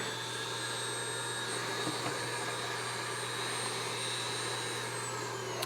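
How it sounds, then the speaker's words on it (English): A rotary cutting bit spins at high RPM on a faceshell, giving a steady, even high-pitched whine with a constant hum beneath it and no speech. "This is just like a cutting blade. It's just a spinning, cutting, like sort of like a drill bit that just allows you to cut in any direction."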